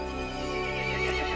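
A horse whinnies loudly in one sustained, wavering neigh in the video game Resident Evil Village, with a faint clopping of hooves underneath.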